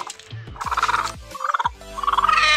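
Repeated throaty, pulsing fowl calls from a yard of Aseel-breed chickens and roosters, three loud close bursts with short gaps between them and no one talking.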